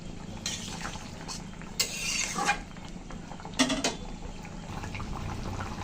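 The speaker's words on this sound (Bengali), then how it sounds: "ভালো করে মিশিয়ে দিলাম।" A spoon scrapes and stirs through thick curry with soft potatoes and stinging catfish in a pan, with a few brief louder scrapes against a low steady background hum.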